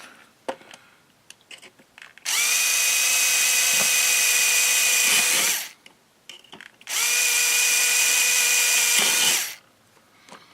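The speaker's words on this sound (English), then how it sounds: "drill the holes in it" A small battery-powered drill bores holes in a model kit, whirring steadily at high pitch in two sustained bursts of about three seconds each, separated by a short pause with faint handling noise.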